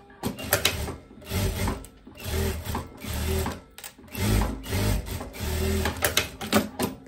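A sewing machine stitches the joined side seam of a fabric poncho in several bursts of rapid, close-up mechanical chatter, separated by short pauses.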